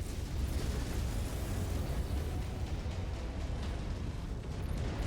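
A missile strike in a sci-fi combat video game, heard as a sustained, loud rumbling blast with dense low-end roar that barely fades across five seconds.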